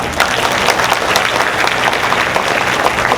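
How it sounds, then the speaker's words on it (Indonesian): Loud, dense applause from a large audience at a national student art competition at Bogor Palace, continuous and even throughout with no voices over it. "Boleh tepuk tangan."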